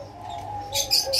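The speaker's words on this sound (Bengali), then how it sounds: "অনেকগুলি কবুতর আনলাম" Pigeons in a farm loft with a newly arrived lot of birds: soft, low cooing close by, with brief brighter calls and rustles toward the end.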